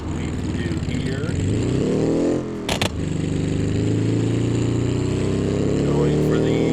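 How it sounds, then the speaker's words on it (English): A car engine on a monster truck track roars loud and close, rising and falling in pitch, with a brief sharp crackling pop near the middle that cuts through the steady drone. "Listen to that backfiring. That's loud."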